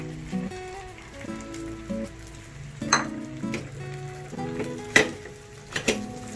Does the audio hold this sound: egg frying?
yes